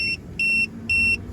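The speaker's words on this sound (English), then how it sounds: "the PTMS thing here started going beep, beep, beep, beep, beep, beep, beep." A car's tire pressure monitoring system sounds its warning, three evenly spaced high electronic beeps, clear and close over low cabin rumble.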